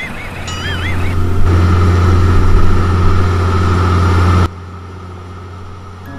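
The diesel engine of a motor grader, a piece of heavy construction equipment, runs at a steady, loud idle with a constant low hum, then drops abruptly to a quieter rumble near the end.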